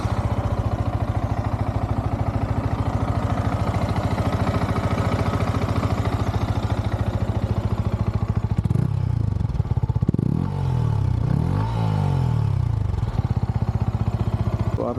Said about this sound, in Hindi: इंजन की आवाज़ आपने सुन ली, साइलेंसर की थंप भी सुन ली